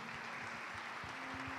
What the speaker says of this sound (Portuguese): Você pode dar uma salva de palmas a Deus?